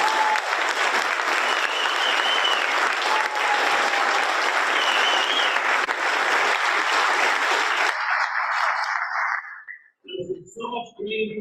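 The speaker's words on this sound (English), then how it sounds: "let's give these three a huge round of applause" A conference audience at a summit agent panel claps loudly and steadily for about eight seconds, the dense applause tapering off abruptly before a voice begins speaking near the end.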